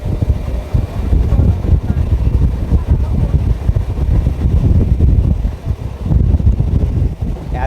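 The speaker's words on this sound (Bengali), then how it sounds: "এত জোরে ট্রেনে কিন্তু হাওয়া দিচ্ছে এই মুহূর্তে" Strong wind roars through a moving train, a loud continuous buffeting rush that batters the microphone over the low rumble of the carriage for the whole stretch.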